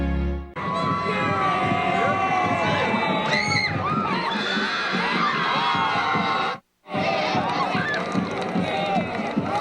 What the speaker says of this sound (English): You're looking at possibly the largest crowd ever here at United Stadium.